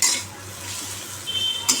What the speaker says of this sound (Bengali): বন্ধুরা দেখো আমার কাঁকরোল ভাজা হয়ে গেল নাড়িয়ে দিয়ে এবার